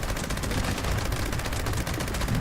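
Dense, rapid automatic gunfire in a video game rattles without pause, a loud continuous burst of closely packed shots with no talking.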